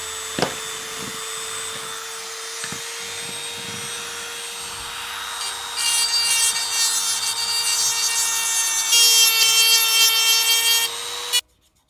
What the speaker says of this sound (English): So what you do, you Dremel, you're heating the metal up and then just pushing in, and the metal will start to splace out